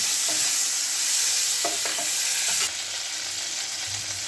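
Chopped big tomato hitting hot oil in a pan for paneer butter masala, a loud steady sizzle with a few sharp stirring scrapes, then a softer continuing fry, no voices.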